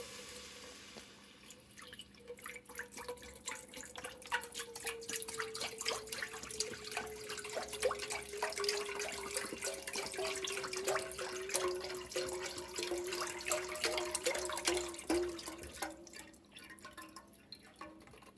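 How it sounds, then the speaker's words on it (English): Vegetable broth poured into a pot for egg drop soup, a steady liquid splashing and trickling that runs for most of the stretch, close and moderately loud, with no talking. "now I'm going to add 4 cups of vegetable broth"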